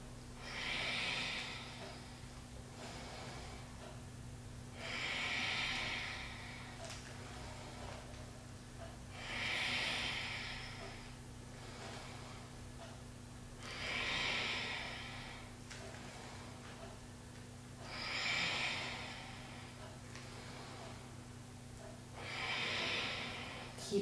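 Slow, deliberate exercise breathing during a shoulder range-of-motion workout. Six audible breath cycles, each a rise and fall of airy in-and-out breath, come at a steady rhythm of roughly one every four seconds over a low background hum.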